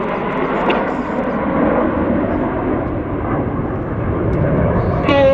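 Red Arrows jets fly over Sywell Airshow in 2024, giving a broad, sustained rumbling roar with a commentator speaking over it.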